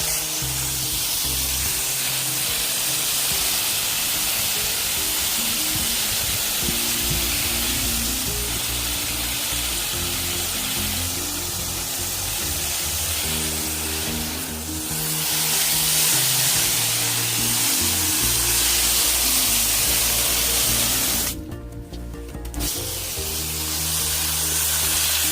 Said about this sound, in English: we are going to come over to our flower bed and we are going to start hosing this down.